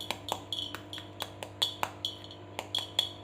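Crunchy aloo tikki being pressed and broken, giving repeated crisp crackling taps at an uneven quick rhythm, near and quiet over a faint background hum.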